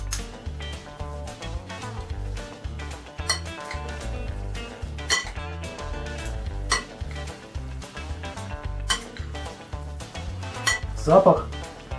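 Korean-style potato salad with garlic tossed in a bowl, a busy run of utensil clinks and scraping against the bowl with irregular knocks throughout, fairly close and loud, no voices.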